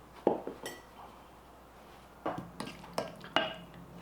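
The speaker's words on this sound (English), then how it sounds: "we're just going to stir these around, get them coated" Food gets stirred in a pan to coat it with onion powder and garlic powder: scattered clinks and scrapes of a utensil against the pan come in bursts, with quiet gaps between, close by and with no voices.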